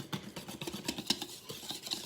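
All-purpose flour being stirred in a bowl with a utensil, close and quiet, a run of soft scraping strokes with light taps against the bowl at an uneven rhythm and no voices.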